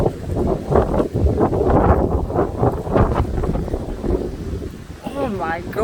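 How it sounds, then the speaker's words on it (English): Strong wind roars through a severe windstorm during a dramatic thunderstorm in Chestermere, Alberta, buffeting the microphone in loud, continuous gusts, with voices talking over it. "the wind is up. The wind's gonna blow the tree over here."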